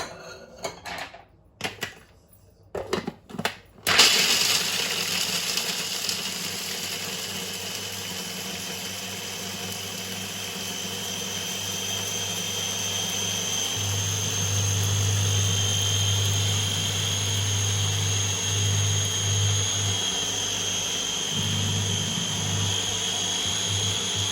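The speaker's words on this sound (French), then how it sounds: "mes noisettes que je vais aussi passer au hachoir" Electric chopper grinding hazelnuts: after a few short bursts of handling, a loud steady motor whir runs continuously, its pitch dipping and surging as the nuts break down, close and alone.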